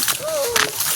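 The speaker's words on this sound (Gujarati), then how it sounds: "આપણી ભેહું વાહીણ ઊભ્યું છે ને વનાભાઈના ડોબાને છાંટા નાખે છે" Water splashes among buffaloes standing in a pond, a brief wet slosh under a person's voice.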